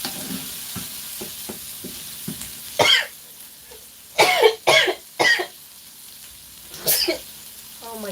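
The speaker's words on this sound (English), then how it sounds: "I'm coughing." Several harsh coughs in short bursts, a couple close together then one more, over a quiet sizzling pan with small kitchen clatter while cooking breakfast.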